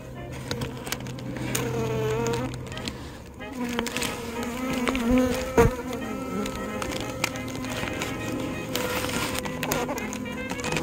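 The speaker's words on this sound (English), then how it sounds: "I got so many bees landing on me" Bees buzz close around a person outdoors, with a dense, continuous hum of many wings rising and falling near the listener, and a faint voice underneath.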